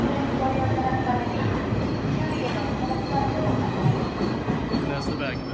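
A Hiroshima Carp-themed train in Hiroshima rolls along with a steady rumbling roar and faint rail clatter, continuous and close, with some talk in the background.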